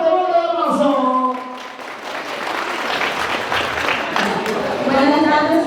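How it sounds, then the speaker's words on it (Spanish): A crowd at a family celebration claps in sustained applause, swelling between stretches of speech amplified over a microphone at the start and end. "Recibimos con un fuerte aplauso."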